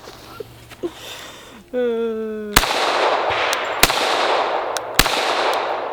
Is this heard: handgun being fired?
yes